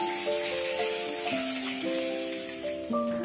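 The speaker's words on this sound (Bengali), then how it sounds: "যেহেতু এই চচ্চড়িটা আমি ইলিশ মাছের মাথা দিয়ে করব, তাই মাছের মাথাটাকে প্রথমেই ভেজে নেব।" A hilsa fish head fries in hot oil, giving a steady, soft sizzle throughout, with a faint tonal melody playing quietly underneath.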